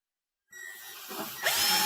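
A power screwdriver whirs on after a short silence, driving screws into a GE refrigerator freezer, rising in pitch and loudness as it runs, close and alone.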